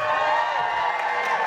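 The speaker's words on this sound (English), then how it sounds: "I'm building this up, you better cheer when I bring it out." A comedy show audience cheering and shouting in a steady, dense roar, loud and sustained with no break.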